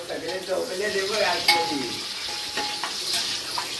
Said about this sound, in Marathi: कांदा फ्राय करते कांदा फ्राय